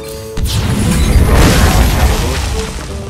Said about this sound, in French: Ouais, je pense que la bombe de lumière là, elle peut être pas mal.